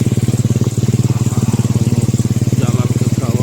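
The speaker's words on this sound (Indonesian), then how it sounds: "Kita naik motor Pak Parman ke kawah" A motorcycle rides along the route to the Keramikan crater at Suoh, its engine throbbing in a fast, even pulse close by, loud and continuous with faint wind noise over it.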